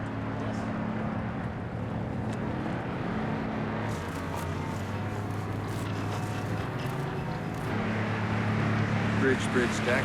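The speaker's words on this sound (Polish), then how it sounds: "Motorówka z lewej burty." Motorboat approaching off the port side during an anti-poaching patrol in the Gulf of California, a steady low engine drone with wind across the water, running under people talking throughout.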